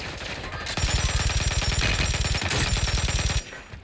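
Sustained automatic gunfire from the Warzone video game rattles loud and close in a fast, continuous stream of shots, cutting off abruptly near the end.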